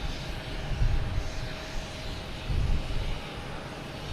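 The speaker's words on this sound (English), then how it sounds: "I have a Delta taking off, heading to Charlotte" A Delta Embraer E175 regional jet taking off at Boston Logan Airport, heard as a steady broad engine roar with two low rumbling swells, moderately distant and continuous, with no talk.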